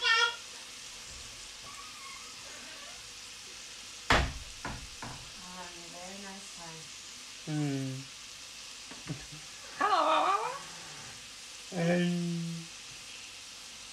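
Peppers frying in a hot pan for a spicy stir fry, a faint, steady sizzle running underneath while a voice talks intermittently, with a sharp clank near the middle.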